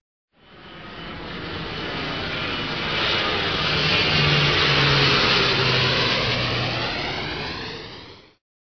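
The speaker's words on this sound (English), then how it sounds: "A plane." A jet airplane roars steadily, its broad engine rumble swelling toward the middle and fading away as it passes overhead.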